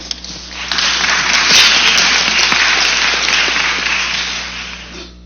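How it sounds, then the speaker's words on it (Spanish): At an academic forum on intercultural bilingual education, an audience breaks into loud applause for a student speaker, a bright, dense burst of clapping that rises fast, peaks, then fades over about five seconds. "Lo recibimos con voto de aplauso."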